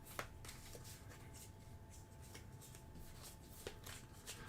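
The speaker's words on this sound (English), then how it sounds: "Shuffle it back in." A deck of cards from the Pathfinder Adventure Card Game is shuffled by hand at close range, giving a soft, steady riffling rustle with a couple of sharper card snaps, and no talking over it.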